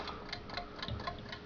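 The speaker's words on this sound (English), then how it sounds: "Clock's ticking and wound up" Close, quiet ticking from a wound 1918 Waterbury wind-up alarm clock, a run of crisp, regular ticks about five per second with no voices.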